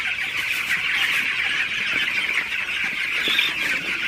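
Dense, continuous clucking and squawking from a large flock of broiler chickens on a farm, steady and loud throughout with no pauses or talk.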